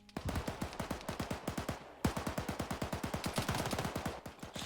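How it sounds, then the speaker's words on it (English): Sustained automatic suppressive fire in the Arma 3 military shooter game, a fast, loud, even rhythm of rapid shots with one brief break before another long burst resumes. "Hearing some suppressive fire go out from Kerbal's PKM."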